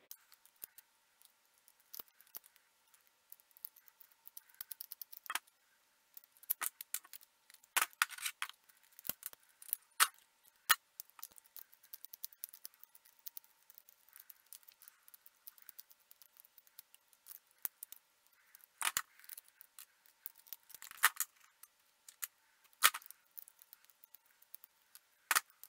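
Small clicks and scrapes from screws being loosened on a 3D-printed four-barrel toy derringer frame, scattered sharp ticks and brief rattles with quiet gaps between, close and fairly faint.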